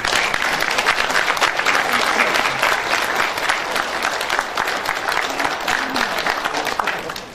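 Warm, sustained applause from a seminar audience honoring a guest at a Korean forum on the May 16 coup, steady and fairly loud, with a few faint voices underneath.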